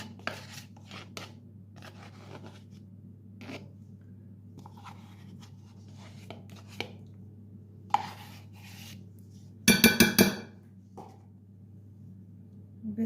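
Cookie dough with dried fruit is stirred, then sour cream goes in: soft, faint scraping and rubbing over a steady low hum, with a louder, denser scrape-and-plop burst near the end and no voices.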